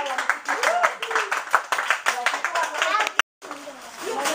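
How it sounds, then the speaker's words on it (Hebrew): Guests at a nine-year-old's birthday party applaud with steady, close clapping mixed with chatter and voices, broken by one brief silent gap. "וקיבלה מחיאות כפיים על הצניעות שלה"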